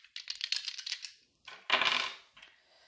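Dice are shaken and rolled for a fortune-telling reading: a quick burst of clattering rattles, a short pause, then a louder tumble that settles with a few final clicks, close and alone.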